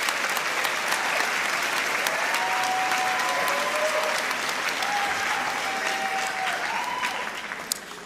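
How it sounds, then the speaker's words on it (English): An audience applauds teachers at a Teacher of the Year celebration, a dense, steady wash of clapping filling the room for several seconds, with a few voices and whistles faintly riding on top before it begins to thin at the end. "Please help me give these outstanding educators another round of applause"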